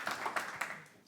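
A brief burst of faint clapping from a small audience, a few scattered hand claps blending into light applause that fades quickly.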